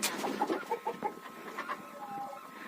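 Hens settled on their roost at night cluck and murmur softly in a series of short, closely spaced calls nearby, fading to quieter low sounds toward the end.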